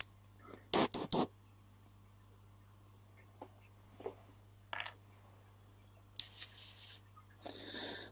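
An Iwata Custom Micron airbrush lets out short hissing bursts of spray near the end, preceded by scattered clicks and small handling knocks over a steady low hum.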